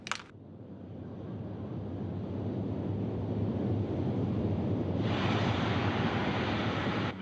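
Soyuz rocket lifting off from Baikonur, its four boosters and single liquid-fuel core engine producing a steady, dense roar that swells after a brief opening burst and stays loud and continuous throughout.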